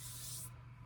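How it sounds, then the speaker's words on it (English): Aluminum cylinder head from a Kohler Command engine on a Cub Cadet tractor being sanded by pushing it back and forth on a flat abrasive surface, a steady close scraping hiss over a constant low hum. "I'm going to push back and forth to essentially sand it down"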